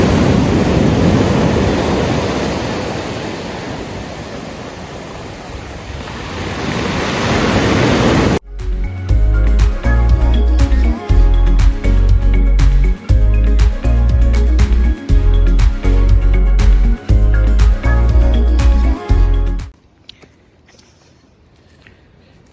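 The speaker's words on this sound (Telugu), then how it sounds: "నాకు ఇక్కడ ఈ వేవ్ సౌండ్ అయితే చాలా బాగా నచ్చింది" Ocean waves breaking on the shore at Cape Breton's Skyline Trail, a loud, steady roar of surf that cuts off sharply partway through, giving way to other rhythmic sound before fading to near silence.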